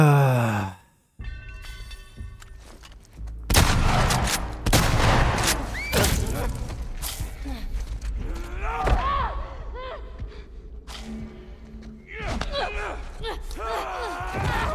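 Video game gunfire, shotgun blasts among it, sounds as sharp repeated bursts and thuds under a chatting voice, with gasps and sighs mixed in.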